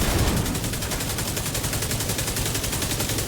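Rapid automatic gunfire from weapons in the video game The Division 2 pours out loud and unbroken for a few seconds, a dense stream of shots with no talk over it.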